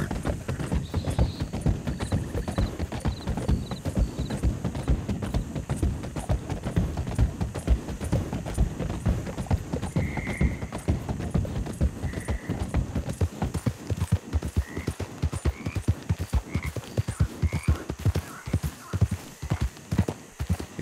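A horse trots in the video game Red Dead Redemption, its hooves clip-clopping in a steady, rapid rhythm close up throughout, with faint background sounds and no talk.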